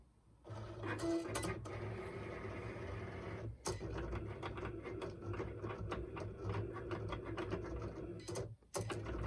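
A Cricut Explore Air cutting machine runs a test cut on a mat, giving a steady, close mechanical whir with rapid clicking carriage movements and short pauses, continuous for most of the stretch with no talking.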